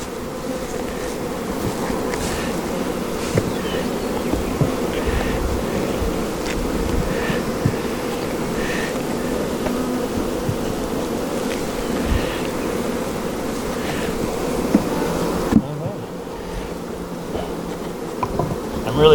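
A queenless honeybee hive being split in spring gives a steady, dense buzz of many bees, close and continuous with faint wind. Occasional soft knocks come from the hive boxes, and no one talks.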